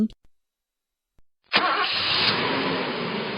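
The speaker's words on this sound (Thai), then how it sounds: "เราจะทราบได้ว่า นี่เป็นเสียงรถยนต์จากการได้ยิน" A car engine cranks and catches after a few brief clicks and near-silence, then settles into a steady, fairly loud idle close by.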